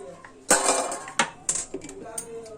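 Batter being beaten again in a bowl with a utensil, for a pan-cooked tart, giving clattering scrapes and knocks in a few irregular bursts, close and fairly loud.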